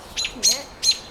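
A bird gives three loud, sharp squawking calls, evenly spaced and close by, as a child chases it outdoors.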